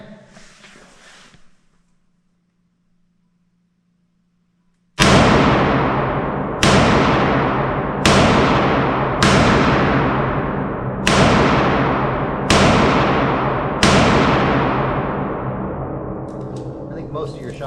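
Smith & Wesson 351PD and Ruger LCR .22 revolvers fire seven sharp, loud shots at an outdoor range, spaced about one to two seconds apart, each ringing out and decaying, after a short stretch of quiet and faint talk.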